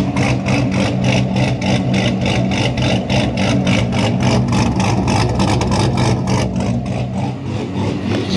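A cammed and boosted 6.0 V8 in a C6 car runs through a restricted exhaust: loud, close engine rumble with a lumpy, pulsing cam idle that stays steady throughout.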